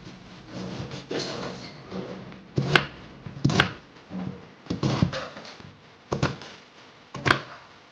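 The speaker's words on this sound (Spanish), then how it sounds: "Bueno, una vez sacada la piel a la cebolla, la cortaremos bien cortadita." A knife chops a peeled onion finely on a cutting board, with about eight sharp, separate chops at an uneven pace, close and fairly clear against a quiet background.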